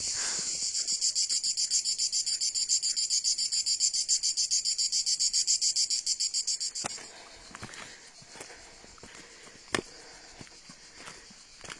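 Cicadas in the Verdon gorge in Provence pulse in a fast, even, rasping rhythm for about seven seconds, then cut off abruptly, leaving quiet scattered clicks and soft footsteps.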